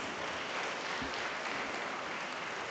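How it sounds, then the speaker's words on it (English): An audience claps at an education awards ceremony to welcome someone speaker, a steady dense wash of applause that holds evenly for the whole stretch. "let's welcome her with a big round of applause"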